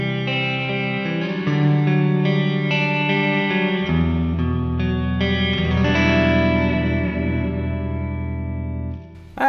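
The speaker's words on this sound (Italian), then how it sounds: "quindi questo riverbero Cathedral" Electric guitar through a Two Notes Torpedo Cab M with its Cathedral reverb setting: sustained distorted chords ringing into a vast, washy reverberant tail, loud and continuous with no voices.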